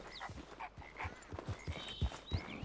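A horse's hooves clop along at a walking pace in the open-world western game Red Dead Redemption 2, a steady, fairly close rhythm of dull thuds with faint game ambience behind.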